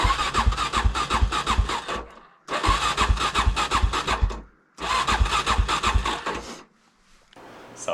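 A motorcycle at 13,000 feet altitude, dumped on a supermoto ride on the Trans America Trail, is cranked three times in long sputtering bursts of about two seconds each, separated by brief silences, loud and close, and it never catches.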